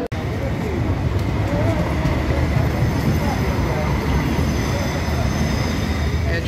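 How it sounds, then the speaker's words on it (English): Tram rolling along a Munich street, a loud continuous rumble of wheels and motor with faint squealing, close by and steady, amid street noise. "just thought you'd like to see the tram."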